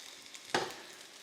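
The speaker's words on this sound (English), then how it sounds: "If it's not sizzling, you're not hot enough that you're actually gonna brown." Meatballs browning in hot oil in a pan give a sudden burst of sizzling, loud for a moment and then fading, over a faint steady background hiss.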